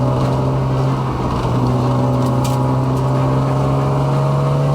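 A Ford EL Falcon race car with a Barra engine swap, running a time attack session on a track, holds a loud, steady engine drone with a strong humming tone throughout.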